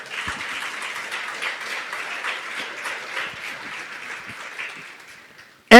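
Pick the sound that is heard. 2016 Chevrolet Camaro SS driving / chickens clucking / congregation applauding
congregation applauding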